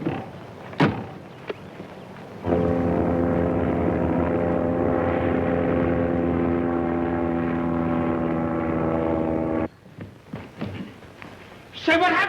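A black propeller plane, an old 1930s crate, revs up and takes off, its steady droning engine hum holding loud for several seconds before cutting off, with brief knocks and scuffs around it.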